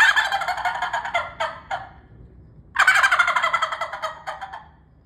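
A tube turkey call imitates a turkey gobbling, two loud, close bursts of rapid rattling gobbles, each trailing off as the air runs out, with a short pause between them.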